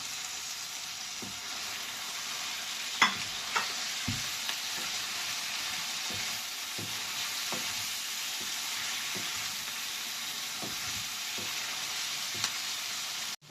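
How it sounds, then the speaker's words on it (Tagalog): Sardines with eggplant sizzling in a frying pan: a steady hiss of frying oil broken by occasional soft clinks and scrapes of stirring, close and continuous, with no talk. "Lagay na po natin ang ating sardines."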